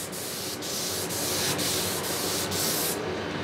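A Graco airless paint sprayer hisses steadily over MDF panels in a loud, continuous broadband spray, close up, with short regular pauses between passes and a cutoff near the end.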